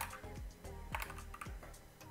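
A computer keyboard clicks in quick, irregular bursts of keystrokes, quiet and close, with faint background tones underneath.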